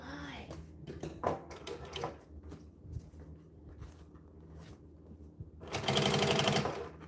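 A sewing machine top stitching a bag runs in a loud, dense burst of rapid needle strokes near the end, after quieter stretches of handling noise and scattered knocks, with some talk early on.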